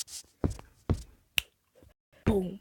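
A stomp-stomp-clap beat, played as sharp separate hits: two low thumps, a crisp clap, then a pause. A voice briefly sings along near the end.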